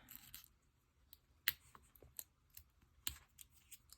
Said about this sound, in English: These are my no stick scissors.